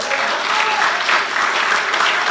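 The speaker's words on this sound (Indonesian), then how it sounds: "Beri tepuk tangan tuh." Dense, steady applause from a large church congregation at a worship service in Batam, Indonesia, fills the space, continuous and loud throughout.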